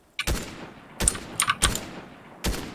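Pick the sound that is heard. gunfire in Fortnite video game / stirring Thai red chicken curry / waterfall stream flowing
gunfire in Fortnite video game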